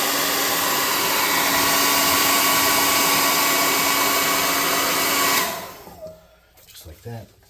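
A hair dryer blows loose baking soda off a handmade goblin banner, a loud steady whoosh that runs for about five seconds before cutting off and fading into a quiet room.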